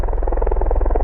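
A V-22 Osprey tiltrotor lifting off at RAF Mildenhall gives a loud, close, throbbing rotor drone with a rapid, steady pulsing beat.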